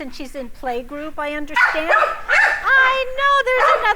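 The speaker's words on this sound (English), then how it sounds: "So there's a dog she wants to play with, right? Yeah, that's a dog." Dogs at an animal shelter give short yips and barks in quick bursts near the microphone, and people are talking over them.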